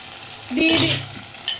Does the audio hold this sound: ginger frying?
yes